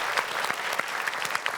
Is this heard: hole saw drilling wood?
no